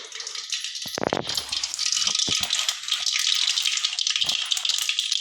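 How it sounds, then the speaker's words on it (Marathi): Mustard seeds dropped into hot oil for khichdi, a bright continuous crackling sizzle with a few sharp clatters as the seeds hit the pan, close and fairly loud, no talk. "गरम तेलात सर्वप्रथम मोहरी टाकून घेऊ"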